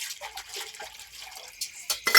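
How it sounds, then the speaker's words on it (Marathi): Dishes are washed with water outdoors on a cold night, with soft intermittent splashing, trickling and light clinks of pots, close and fairly quiet, sharpening into brighter splashes at the end. "समोर भांडी कसायचं काम चालू आहे"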